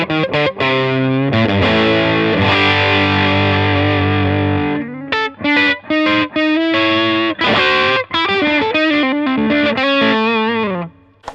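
Electric guitar played through a Timmy overdrive pedal alone, set slightly bright with a faintly fuzzy edge: loud sustained chords ring out, then choppy strummed stabs and short single-note phrases follow, with no talking.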